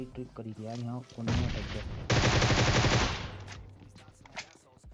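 Gunfire in the mobile game PUBG Mobile: a rapid automatic burst rattles over background game sounds, loud and close, with other sounds and brief noise before it.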